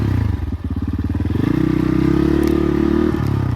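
Close, loud motorcycle engine running rough and pulsing, rising in pitch around the middle as it revs, with rattling clatter on top; setting is a dusty mountain ride around Manang.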